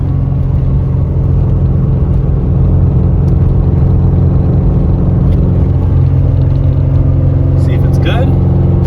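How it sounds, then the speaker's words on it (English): A 2002–2007 Subaru WRX cruises steadily at about 40 miles per hour, a constant low engine drone and road rumble from inside the cabin, with a brief faint chirp near the end. "we have Jared driving the car right now"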